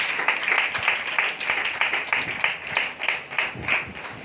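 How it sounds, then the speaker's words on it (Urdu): A church congregation at a Sunday meeting claps loudly and steadily, a dense wash of hands filling the whole stretch without letup. "زوردار تالیاں بجائیں."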